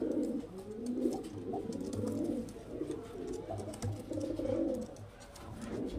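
Pigeons coo in low, throaty, overlapping calls that roll on continuously at close range, with no voices.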